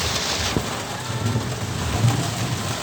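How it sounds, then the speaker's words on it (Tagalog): Steady rain pours down over a street food stall, a dense hiss of drops on surfaces close by with a low thunder rumble and faint scattered knocks underneath. "Ayan, kumukulog-kulog kidlat pa."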